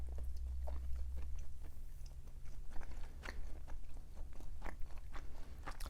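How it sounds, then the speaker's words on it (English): Someone bites into a homemade fried tofu wonton filled with melted cheese, crisp crunches followed by steady close-up chewing that continues for several seconds with no talking. "Now let's take a bite of the tofu."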